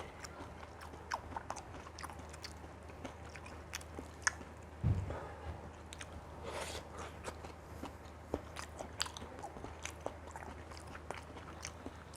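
Someone eats a crunchy Busan-style pancake with onion, making quiet, close bites and crisp crunching chews in an irregular rhythm over a soft background hum.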